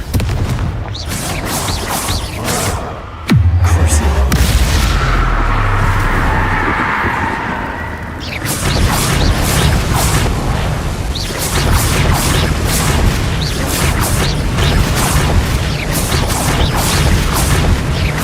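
Bombarda and Confringo spell blasts in the Hogwarts Legacy video game, loud booming explosions with rumbling debris and crackling bursts repeating through a long stretch of dense, chaotic combat noise.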